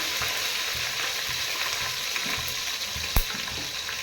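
Steady sizzling of small onions frying in hot oil for tempering a brinjal and dry fish curry, a continuous crackling hiss with one brief sharp pop near the end.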